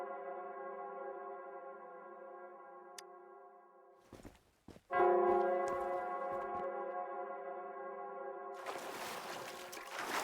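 A large bell tolls in the video game Wuthering Waves, its sustained harmonic ring held steady across the scene, briefly broken by a short gap and ending under a burst of noisy wash.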